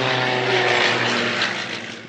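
Aircraft fly in an aerobatic display at an aviation fair, producing a loud, steady engine drone with a tonal whine that holds throughout and eases off slightly at the end.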